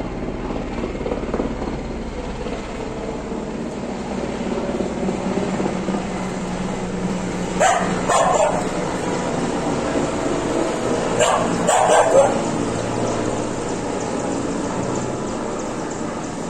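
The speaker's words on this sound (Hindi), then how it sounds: "ये आप देख रहे होंगे ना कि ये हेलीकॉप्टर घूम रहा है" An army helicopter circles over a home near a cantonment area, a steady loud rotor drone throughout, with a dog barking twice in the background.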